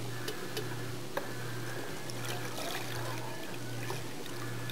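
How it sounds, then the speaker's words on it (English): Goat's milk is poured into a pot on a stove top, giving a soft, faint trickle alongside a steady low hum in the kitchen and a few light taps. "I'm just going to pour this in here."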